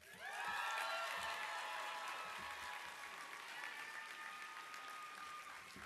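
Applause from the audience at a Volunteer Florida and AmeriCorps 20th anniversary program, honoring partner organization leaders; a dense, steady round of clapping fills the room, swelling quickly and holding strong throughout.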